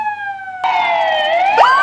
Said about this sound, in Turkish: polis sireni